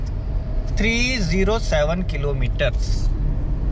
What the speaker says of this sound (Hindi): मैं अभी तो खींच के भी चला रहा हूँ गाड़ी को